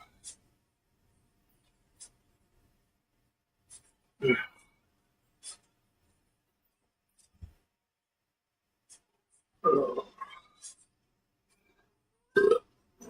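A few short, loud burps break up long stretches of quiet, with small clicks and soft noises scattered between them.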